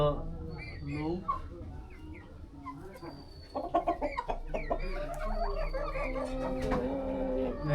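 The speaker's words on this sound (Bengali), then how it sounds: "আপনাদেরকে দেখাচ্ছি বাহমা জাতের মুরগি খুব সুন্দর" Brahma chickens with heavily feathered legs cluck and murmur at a poultry farm in a steady, busy stream, with a burst of louder clucking midway and a low, constant background rumble.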